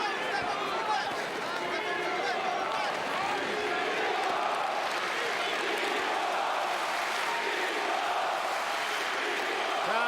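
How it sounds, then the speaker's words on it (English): A boxing arena crowd at a Klitschko versus Lamon Brewster heavyweight rematch, the dense roar of chanting and cheering voices filling the hall continuously for ten seconds, loud and reverberant. "Crowd chanting, Klitschko, Klitschko."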